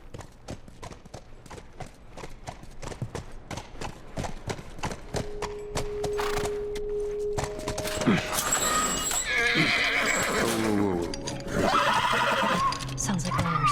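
A horse in the video game The Last of Us Remastered gives a loud, drawn-out neigh after a run of steady clip-clopping hooves, with a second whinny following amid background game sounds.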